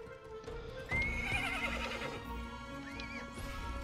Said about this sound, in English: I need a name for my horse.